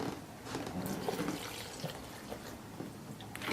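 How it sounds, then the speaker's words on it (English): Distilled water is poured into a homemade pain-remedy mixture, a faint, continuous trickle and splash with small drips, quiet and close, with no talking. "And I'm going to add my distilled water."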